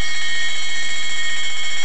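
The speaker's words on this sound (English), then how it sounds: "The alarm's going off." A loud, continuous electronic alarm sounds inside a house during a large house fire, a steady piercing tone holding without a break.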